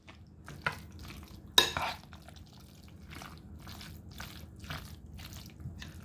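Cooked noodles going into a BBQ ranch chicken casserole, with soft wet squishes, light stirring and scattered clinks of utensil against the dish, one sharper scrape partway through, fairly close and without talk.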